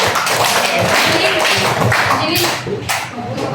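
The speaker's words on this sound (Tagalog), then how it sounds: "Bigyan natin sila ng 5 palakpak." A classroom group claps in unison during a primary-grade social studies teaching demonstration, a dense burst of many hands filling the room with voices and chatter mixed in, the rhythm blurring rather than separating into distinct claps.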